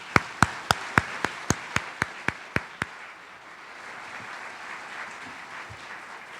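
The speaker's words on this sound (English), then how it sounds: "Please give them a big round of applause." Applause at an MLK awards event: about a dozen sharp, evenly spaced claps ring out over three seconds, then fade into soft, diffuse crowd noise.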